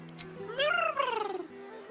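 A cat in the video game Baldur's Gate 3 gives one clear, drawn-out meow that rises and falls, close and fairly loud against a quiet game background.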